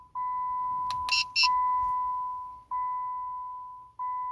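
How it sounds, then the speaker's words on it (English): A 2007-2010 Chrysler Sebring key fob programming confirmation: a steady electronic tone sounds in long repeated beeps, broken once by a brief higher chirp, clear and close with no talking. "wait for a few seconds until you hear the beeping sound indicating programming is successful"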